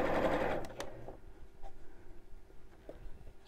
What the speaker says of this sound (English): Then I'm going to go right up to the longest stitch length on my machine, which is a 5, and carry on sewing.